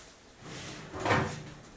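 A microwave oven door swings open in a home kitchen, one soft thud followed by a brief louder clunk, close by with no talking.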